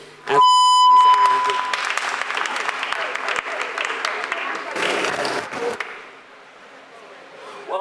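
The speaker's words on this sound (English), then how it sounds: "please give a round of applause." Loud applause from an audience at a climate talks event, a sustained wash of clapping that swells, holds steady, then thins out, with a brief electronic tone at the start.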